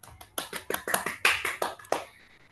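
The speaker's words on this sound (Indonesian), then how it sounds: "Berikan aplaus dulu." A classroom group claps after a presentation, with a short run of separate, crisp hand claps at an uneven rhythm, fairly close, then tapering off.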